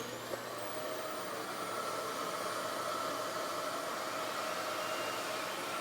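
A RevAir hair dryer brush blows air with a steady, loud whooshing roar and a faint high whine, running continuously with no talking.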